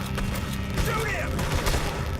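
Gunfire in the Western game Red Dead Redemption 2 crackles as a rapid volley of shots over a low rumbling backdrop, with a voice briefly heard amid the shooting.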